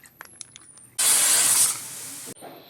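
A pressure cooker whistle blasts for about a second and a half, a loud sharp hiss of steam, then dies away abruptly. Quieter kitchen clatter comes before and after it.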